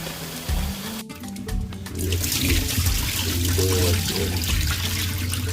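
Water runs and splashes into a cooking pot being filled for Jamaican rice and peas, a close, continuous gushing after a brief clunk.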